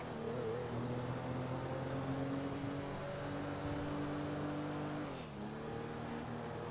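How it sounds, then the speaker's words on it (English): A car's engine drones and revs steadily as it accelerates in a video game, a continuous mid-loud hum with a brief dip near the end. "My car sounds like it's gonna fall apart when I accelerate."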